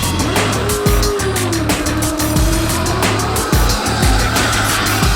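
A Dodge Challenger drifting on a Red Bull Drift Shifters course, its engine roaring loudly with long screeching tire squeal and repeated revving pulses throughout.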